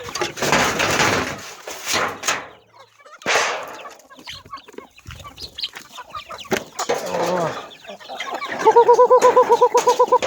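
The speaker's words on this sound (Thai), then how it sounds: "อ่ามาให้อาหารไก่กันนะครับ" Chickens cluck and murmur in short bursts, with a sustained rising squawk near the end; fairly close and unaccompanied by talk.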